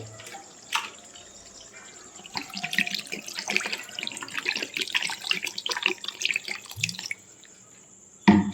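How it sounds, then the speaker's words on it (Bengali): Water runs steadily into a pan of butter chilli chicken cooking with softened capsicum and onion, a close trickling pour of about five seconds that ends with a faint clink. "এর ভিতরে আমরা সামান্য পরিমাণে জল দেব"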